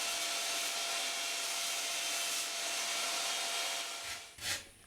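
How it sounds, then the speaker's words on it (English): A belt sander grinds steadily across a DIY hydrofoil pontoon for a sailing kayak, a loud continuous whirring rasp that holds for several seconds before easing off with a brief surge near the end. "The belt sander is a bit too efficient"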